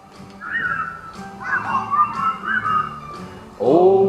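Melodic whistling of a jaunty tune, steady and close, with phrases rising and falling for several seconds before a louder, brighter tone cuts in at the end.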